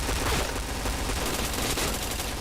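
Dense, continuous gunfire from a first-person shooter video game, rapid overlapping bursts filling the whole moment at steady loudness with no voices.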